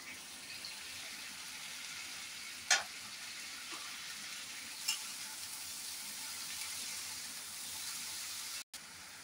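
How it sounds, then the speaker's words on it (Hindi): Potato pieces and bottle gourd shoots frying in a pan for a bhujia give a quiet, steady sizzle, broken by a couple of sharp stirring clinks before a brief cut. "अब इसको मैं थोड़ी देर भूनूंगी।"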